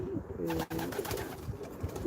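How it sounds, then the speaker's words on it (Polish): Soft racing pigeon cooing in a busy, noisy setting, low rolling calls repeating under a wash of background sound. "tu są gołębie"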